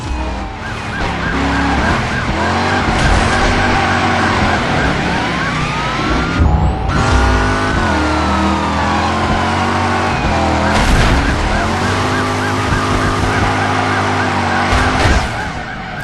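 Game cars race in a chase through city streets in Driver, engines roaring and tyres skidding loudly and continuously, with siren-like wails mixed into the dense, unbroken action.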